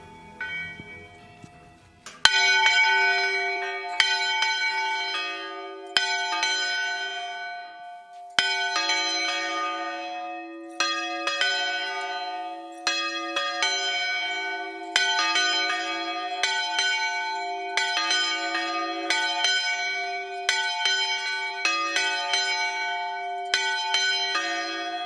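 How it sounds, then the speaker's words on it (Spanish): Church bells swung through full turns ring out loud and clear in a repeating pattern of strikes, each ringing tone decaying before the next peal, continuing for over twenty seconds with no voices. "nosotros movemos la campana entera, dando vueltas completas"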